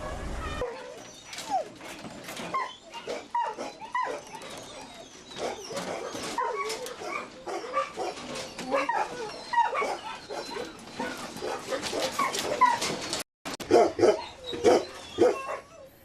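Several dogs at a dog meat farm bark and whimper in a busy, overlapping chorus of sharp yaps, whines and cries that runs loud and continuous throughout, with no talk.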